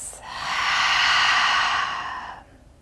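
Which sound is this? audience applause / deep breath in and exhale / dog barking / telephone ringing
deep breath in and exhale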